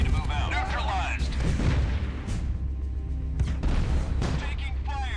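Video game gunfire and booming artillery-like blasts in a 3 vs 3 match, heavy and continuous under game voice callouts and radio chatter.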